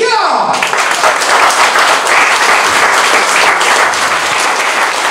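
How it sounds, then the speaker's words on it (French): A studio audience at a French-language game show breaks into loud, dense applause that holds steady throughout. "on applaudit notre public"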